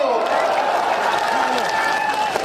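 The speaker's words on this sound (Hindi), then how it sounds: "ठोको ताली ठोको" Crowd at an outdoor political rally for a Congress leader in Kishanganj claps and cheers steadily, a dense wash of applause under a speaker's amplified voice carrying over it.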